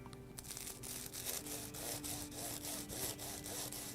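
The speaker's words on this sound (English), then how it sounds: "And now I'm just gonna trim the ends of the бастею." A knife trims the crisp pastry ends of a duck confit bastilla, making a run of rhythmic, scraping sawing strokes that are close and moderately loud, with no talking.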